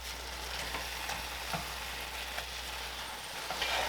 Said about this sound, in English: What I'm going to do is I'm going to go ahead and cook this off. And just keep chopping it up until it's nice and brown here.